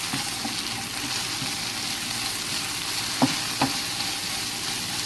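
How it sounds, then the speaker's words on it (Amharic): Chicken sizzles steadily in a pan seasoned with black pepper and salt while an Ethiopian brown rice and chicken dish is cooked; the hiss is continuous and close, with two brief stirring scrapes near the end. "አብሬ ጠብሰዋለሁ።"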